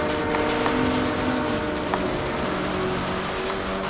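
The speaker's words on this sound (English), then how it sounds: "We've overtaken the train." A train passing in Forza Horizon 4, a loud continuous rumble of rail cars with faint tonal horn-like lines, heard from a fast-moving car alongside.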